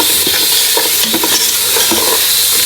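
Crushed chili, cumin, salt, nutmeg, mace and biryani flowers fry in hot oil in a pot for chana pulao, with a steady, close sizzle and repeated scraping stirs throughout and no talking.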